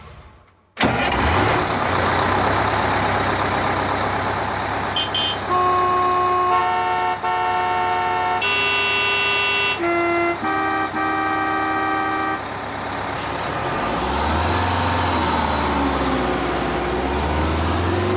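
A car engine starts with a sudden loud crank, then several horns toot in a series of blaring honks before the engine idles and revs, taken from a vehicle sound library.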